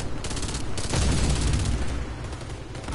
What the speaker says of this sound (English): Hey, sniper got me.